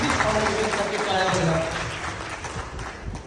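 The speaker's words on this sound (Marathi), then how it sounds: "एकदा टाळ्या व्हायला पाहिजे" An audience bursts into applause for the organisers of a stage programme, a dense burst of clapping that tapers off over a few seconds, with a voice over it.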